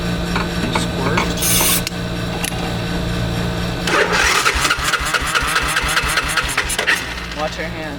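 A 1986 Honda Fourtrax four-wheeler engine cranks and catches, then runs loud and close with a rough, rapid pulsing rhythm, with voices in the background.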